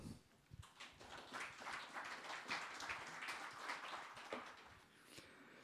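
Audience at a French emergency-services expo conference applauds invited volunteer firefighters, a steady dense wash of clapping from many hands that holds for several seconds at a moderate level before easing slightly at the end.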